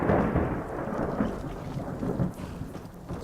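Thunderstorm in the video game Skyrim: a dense, constant wash of heavy rain under a deep, rolling rumble of thunder that swells and fades, loud and continuous, with no voices.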